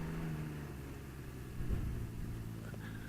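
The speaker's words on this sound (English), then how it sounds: "It's definitely a better exhaust note than the 600cc engine." A 2019 Can-Am Ryker Rally Edition three-wheeler with a 900cc engine gives a low, steady exhaust drone, rising briefly in a short rev before settling back to an even hum.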